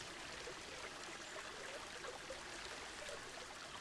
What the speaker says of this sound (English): we are going to put in a little bit of a waterfall, spring, something coming up out of our rocks here